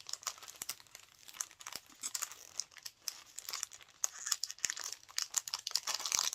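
Plastic craft-supply packaging crinkles and crackles continuously as it is turned and squeezed in search of an opening, close up and unbroken by talk.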